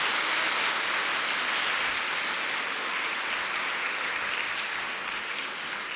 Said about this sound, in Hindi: तालियां बजाकर प्रभु को धन्यवाद।